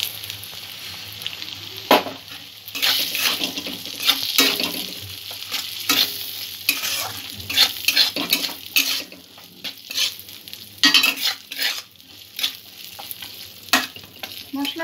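Masala gravy with peas is stir-fried in a pan, with loud sizzling broken by repeated scrapes and clinks of a spoon against the metal over about fifteen seconds and no voices.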